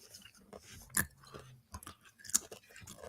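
Someone chews and bites into crunchy food up close, with two sharp crunching bites amid irregular wet mastication and no talking.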